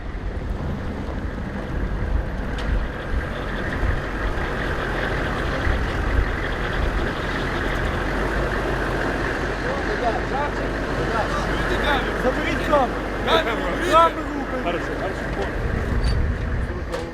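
Humvee engines idle and rumble at night as wounded soldiers are moved from one vehicle to another in the Ukraine war. A steady, loud low drone with wind buffeting throughout, and voices talking over it.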